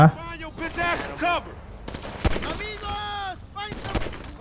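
Bursts of gunfire from the video game GTA V crack out among loud, excited shouting voices that dominate most of the stretch.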